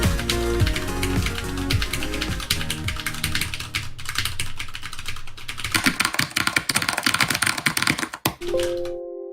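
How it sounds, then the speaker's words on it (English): Rapid, dense clacking of mechanical keyboard keys, loud and close, with a brief pause near the end before a final burst. "Welcome everyone to Mechanical Keyboard Hour."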